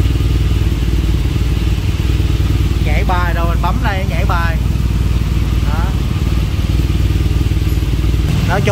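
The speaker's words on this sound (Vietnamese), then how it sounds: "mỗi lần mình nổ máy thì cũng ngại các bạn, nó cũng ồn lắm" A BMW R18 motorcycle engine idles in an underground garage, a loud, steady, low throbbing rumble that echoes throughout while someone talks briefly over it.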